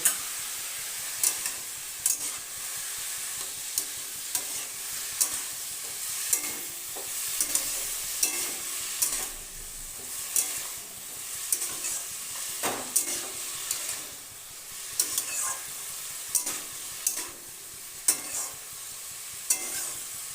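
Salt and turmeric stirred into ash gourd and prawns frying over a medium gas flame: a steady close sizzle broken by repeated spoon scrapes and knocks against the pan, with no talking.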